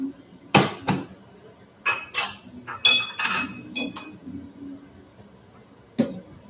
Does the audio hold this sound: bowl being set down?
yes